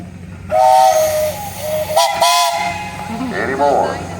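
A steam traction engine at a steam and thresher parade sounds its whistle in a few short shrill blasts, loud and close, with a burst of steam hiss between them.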